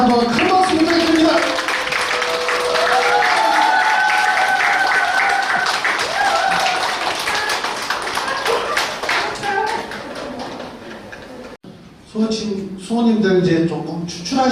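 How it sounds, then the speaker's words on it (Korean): Audience applause at a public talk show, sustained and steady for about eleven seconds before cutting off, after which a voice speaks over the room. "다시 한번 큰 박수 부탁드립니다"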